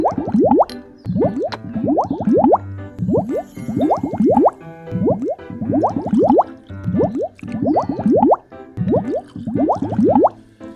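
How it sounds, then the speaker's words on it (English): Water poured in repeated short bursts into a row of jars, each pour a quick rising gurgle followed by a brief pause, steady and close, with no talking. "We want to pour some water into each jar."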